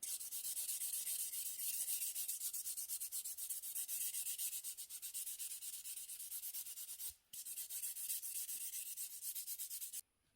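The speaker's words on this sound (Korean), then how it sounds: "샌딩 거친 표면 말고 좀 더 부드러운 표면으로 한 번 더 할게요" A nail file sands the surface of gel nails with steady, close, scratchy rubbing strokes in a fast even rhythm, briefly pausing twice, with no talking.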